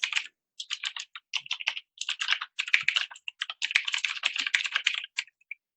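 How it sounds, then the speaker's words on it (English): Quick, crisp keystrokes clatter on a computer keyboard in uneven bursts with short pauses, close up and alone. "I'm just typing this out"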